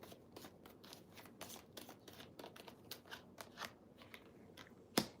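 Tarot cards are shuffled by hand in rapid, irregular riffling bursts, close and quiet, ending with a sharper snap.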